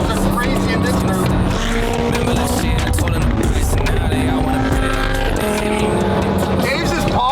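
A turbocharged car's exhaust popping and banging as flames shoot out, heard as a loud, continuous engine roar with rapid crackling bursts throughout, while people talk over it.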